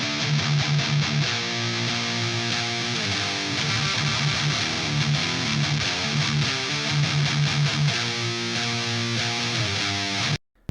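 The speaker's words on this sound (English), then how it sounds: "bringing some of that hiss and that distortion and that snarl back into the guitar track." Heavily distorted metal rhythm guitar with a low-pass filter opened up, chugging dense, loud riffs with bright hiss and snarl across a steady driving rhythm, no talk over it, ending abruptly.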